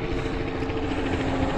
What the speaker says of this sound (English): I don't even know if it's a police helicopter or what